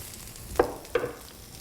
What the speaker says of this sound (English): I'm going to add some onions and garlic to a hot pan.